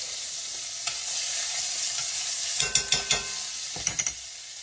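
A hamburger steak fries in an overly hot pan with added bacon grease, making a constant sizzling hiss broken by a few quick metallic clinks and scrapes of a utensil against the pan.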